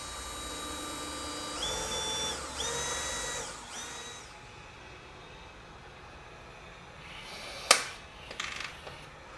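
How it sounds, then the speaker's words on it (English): A power drill bores small 1/8-inch holes into the bumper reinforcement of a Corvette C7 ZR1, with a few short whining bursts that spin up and wind down, followed by clicks and handling noises. "you are going to need to drill a couple little 1/8" holes in your bumper reinforcement"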